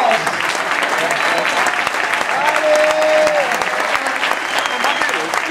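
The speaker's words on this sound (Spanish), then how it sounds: "Más aplausos para Vicente, el gran capi." Loud, sustained applause from a crowd at a football player presentation event, a steady wash of clapping that carries on without a break for several seconds.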